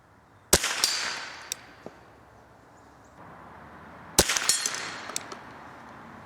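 Two sharp, loud cracks from a .22 rifle firing Sellier & Bellot CLUB ammunition outdoors, about four seconds apart, each followed by a short ringing tail and faint clicks, with no speech.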